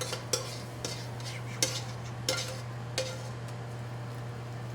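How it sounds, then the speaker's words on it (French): Browned moose meat mixed with salsa in a pan, a utensil clinking and scraping at irregular intervals over a faint steady sizzle, close and fairly quiet, no voices. "On mélange un peu ici."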